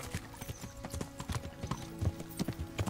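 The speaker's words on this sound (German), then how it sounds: "Ach Pferd, das dauert mir zu lang. Komm, gib Gas. Oh, jetzt hier. Vollgas, Galopp." A horse gallops in the medieval video game Kingdom Come: Deliverance, its hooves drumming in a fast, steady clip-clop over a constant background, fairly faint and with no voice over it.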